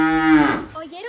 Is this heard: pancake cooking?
no